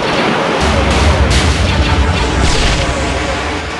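Cannon fire effects from a Lego Star Wars stop-motion space battle form a dense, loud, continuous barrage of booms and blasts with rumbling low end throughout.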